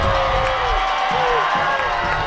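At a high school football game in a stadium, a large crowd roars loudly with mixed booing and cheering, steady and dense throughout, while a commentator's voice runs over it.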